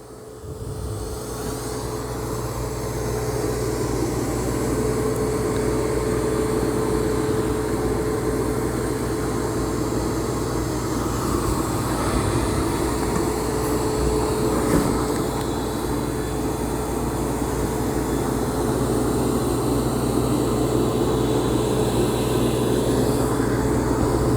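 A Roborock Saros 20 robot vacuum runs at maximum suction over carpet strewn with long hairs, Cheerios and ground coffee, a steady close whirring drone with a constant tonal whine that swells in the first seconds and then holds level.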